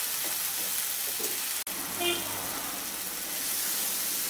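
A spice masala with turmeric and salt fries in oil while being stirred for a prawn and kohlrabi curry. A steady, bright sizzle carries throughout, broken by one sharp click partway through.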